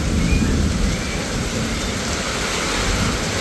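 Heavy rain pours down loudly and steadily, with deep rumbling thunder rolling underneath throughout, close and continuous with no pauses.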